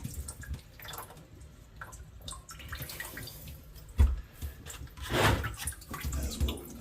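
Water runs from an HVAC drain line in a faint, steady trickle broken by a few drips and a soft thump.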